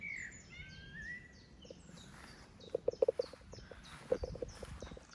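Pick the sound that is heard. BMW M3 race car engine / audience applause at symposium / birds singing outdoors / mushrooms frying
birds singing outdoors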